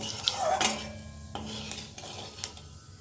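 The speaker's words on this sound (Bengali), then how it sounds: "ফোড়নটা একটুখানি নেড়ে নেব" A spoon stirs cumin tempering in hot oil in a pan for fried brinjal, giving soft metallic scrapes and light clinks, close and quiet, with no voices.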